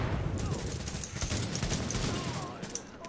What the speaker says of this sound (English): so I shot him right in the head and he dropped